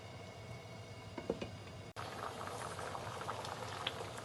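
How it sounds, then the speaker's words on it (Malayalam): Green peas curry bubbling at a steady boil in a pot, a continuous close patter of bursting bubbles with small pops, alone without voices. "നന്നായി തിളച്ച് വന്നിട്ടുണ്ട്."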